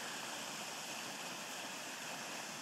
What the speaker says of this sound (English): Isn't that a beautiful waterfall?